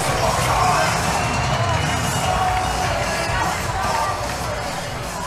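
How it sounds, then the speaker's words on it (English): A crowd roars and cheers continuously at a fight event, a loud dense wall of noise with babbling voices that holds steady before easing slightly toward the end. "the crowd's going wild for Jamie right now"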